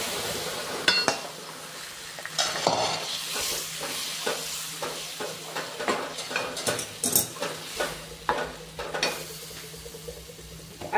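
Garlic and cumin tempering sizzles in hot oil in a pan, with a spoon stirring and occasionally clinking against the metal, a steady frying hiss throughout and no talking.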